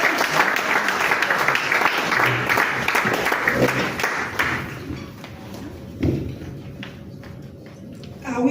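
Audience applause at the official launch and induction of a monitoring and evaluation network in Liberia, a loud dense clapping that lasts about five seconds and then drops away to a quieter room with a few scattered thuds.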